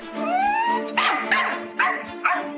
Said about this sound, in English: Barking is a constant soundtrack